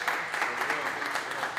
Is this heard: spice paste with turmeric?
no